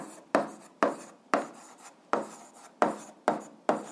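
Handwriting notes on paper, a series of about eight sharp pen strokes in an uneven rhythm, each a quick scratch that fades, close and clear with no talking.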